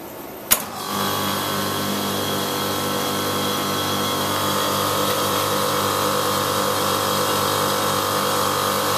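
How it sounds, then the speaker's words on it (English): Vacuum pumps for a milking parlour starting with a sharp click and then running as a loud, steady mechanical drone with a constant tonal hum that holds unchanged throughout. "Vacuum pumps running out for the milking parlour."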